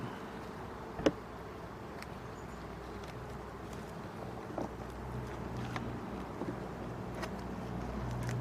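Calm honey bees buzzing around an open WBC hive during an inspection, a low continuous drone with a couple of faint knocks from handling the frames.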